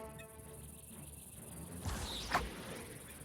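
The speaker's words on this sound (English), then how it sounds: "Those, like, cicadas are really annoying." Cicadas in Pillars of Eternity II buzz faintly as a continuous high insect drone behind the game's ambience, with a brief louder effect partway through.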